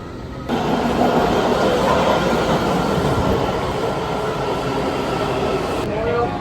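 A Washington, D.C. Metro subway train roars loudly along the tracks, a dense steady rumble with faint wheel squeal that drops off briefly near the end.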